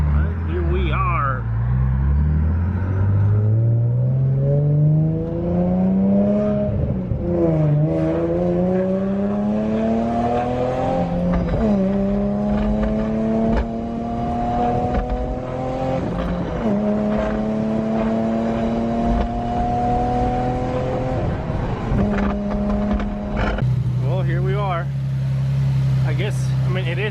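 Nissan G35 driving with its engine loud and close throughout, rising in pitch as it accelerates through several gears with shift dips between pulls, a steady engine drone carrying the whole ride.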